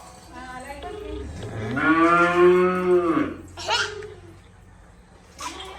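A cow moos loudly and close at feeding time, one long drawn-out low call followed by a shorter second moo, with people talking around it.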